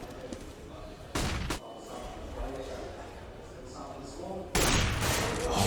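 Gunfire in a Counter-Strike match on the Overpass map, a rifle shot through a tree, comes as two loud bursts of shots, one brief and one longer near the end, over steady game ambience with a commentator talking throughout.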